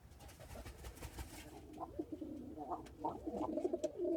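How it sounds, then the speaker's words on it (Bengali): Soft pigeon coos repeat in short murmuring phrases over a low, steady background hum, fairly quiet and close by, at a pigeon farm. "সকালের খাবার পানি দিচ্ছি পায়রাকে"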